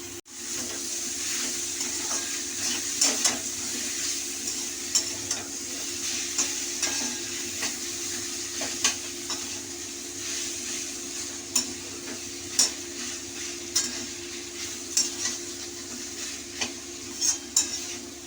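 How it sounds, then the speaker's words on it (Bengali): Mashed banana flower sautéed in a pan for a vegetarian mochar ghonto, with a continuous sizzle and regular scraping strokes of a spoon against the pan, close and even. "এটা একটু ভালো করে কষে নিতে হবে।"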